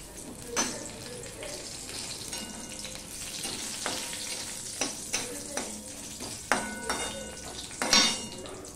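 Whole garam masala of cloves, cinnamon pieces and a bay leaf sizzles in hot oil for tempering. A steady frying hiss runs throughout, broken by several sharp clinks and scrapes of a spoon stirring in the pan.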